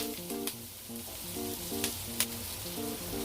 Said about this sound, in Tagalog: Naglagay ako dito ng mga pinatuyong maliliit na hipon. Igisa-gisa lang ito ng 1 minuto.